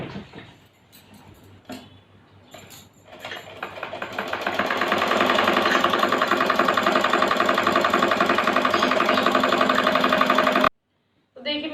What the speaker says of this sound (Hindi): यहाँ से एक ऐसे सिलाई लगा दूंगी तो ये भी हो जाएगी जॉइंट इसी में